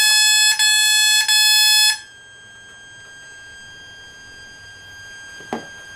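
Electronic speed controller in programming mode emits loud, steady high-pitched beeping tones in a few sustained bursts with brief gaps, then cuts out, leaving quiet background and a single faint click near the end.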